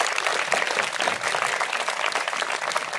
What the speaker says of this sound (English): I want that whole school please give a big round of applause for all these students who are standing here.